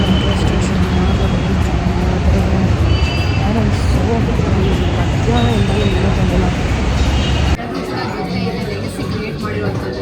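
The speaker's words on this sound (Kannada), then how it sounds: "ಈ ಮೆಟ್ರೋ ಮಿಸ್ ಆಗೋಯ್ತು. ಮುಂದಿನ ಮೆಟ್ರೋ ತೊಗೊತೀನಿ." A metro train runs through a busy metro station with a steady, loud rumble and rail noise for most of the span. The noise then drops off sharply, while crowd chatter and nearby talking continue throughout.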